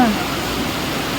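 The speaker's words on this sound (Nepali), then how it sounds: "बगाउने पानी आयो आज।" Heavy-rain floodwater surges through a Kathmandu street, carrying scooters along. A constant, loud hiss and rush of moving water continues throughout, with a brief voice at the start.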